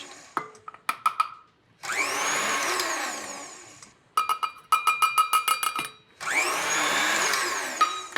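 An electric mixer beats flour into madeleine batter in two sustained whirring runs, separated by sharp clicks and taps from the beaters against the bowl.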